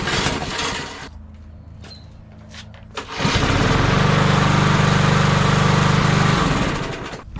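A Briggs & Stratton lawn mower engine cranks and catches after a primer bulb replacement. A few brief pulls come first, then the engine fires into a loud, steady running roar for several seconds before winding down.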